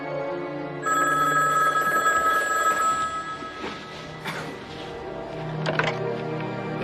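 A telephone bell rings in a scene from The X-Files, a loud sustained metallic ring that keeps going for several seconds as other noises and movement sound around it.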